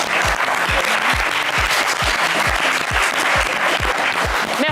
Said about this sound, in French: Allez, on vous applaudit très fort.